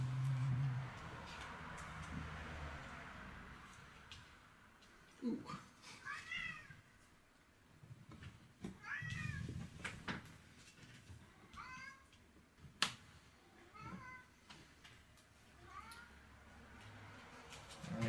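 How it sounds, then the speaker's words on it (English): A cat meows repeatedly in the background, several distinct calls spread through the stretch, faint against a quiet room with low murmuring voices. "What's with that cat noise happening in the back of the video?"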